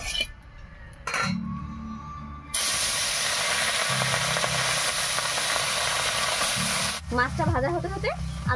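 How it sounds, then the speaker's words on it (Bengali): Boroli fish rubbed with salt and turmeric hisses loudly in hot mustard oil in a kadai, a steady, close sizzle that jumps up sharply and keeps crackling throughout after a few quieter clinks. "এবার কড়াইতে সরষে তেল দিয়ে ভেজে নেব।"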